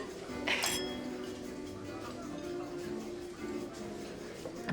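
Glasses clink together in a toast at a restaurant table, one bright clink near the start followed by faint clatter of dishes and a low murmur of background voices.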